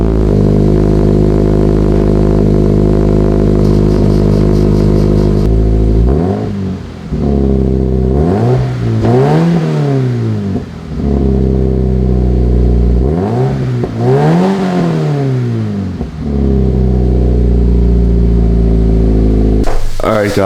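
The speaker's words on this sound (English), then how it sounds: "go ahead and crank the car up and give you guys a cold start" A Scion FR-S fitted with an unequal length header cold starts: a steady, loud idle drone is followed by two rising and falling revs near the exhaust, then a return to a fast idle.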